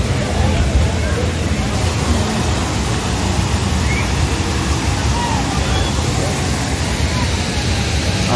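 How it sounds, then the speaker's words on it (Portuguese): Water splashing and rushing at a hotel club pool area, a loud, constant broadband wash like a fountain or cascade, with faint crowd babble behind it. "Ó, o barulhinho da água."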